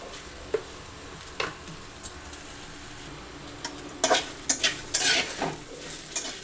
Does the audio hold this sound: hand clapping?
no